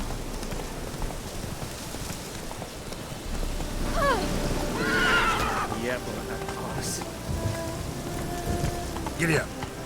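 Roach the horse in The Witcher 3 whinnies in a rising and falling neigh midway, with a second shorter whinny near the end, over steady rain with occasional distant thunder and someone talking.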